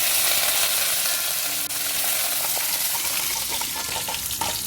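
Loud, steady sizzling of dried red chillies and curry leaves frying in hot oil for tempering, a continuous crackling hiss close by with no voices.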